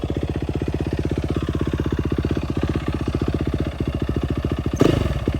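A Yamaha WR450F motorcycle engine with a Rekluse clutch idles in gear, a rapid, even thumping pulse close up and steady throughout, with a brief rougher burst near the end.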